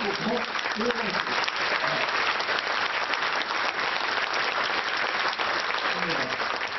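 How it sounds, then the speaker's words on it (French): Sustained audience applause at an association's general assembly, a dense, even clatter of many hands throughout, with faint voices speaking beneath it. "vous pouvez applaudir Hugues"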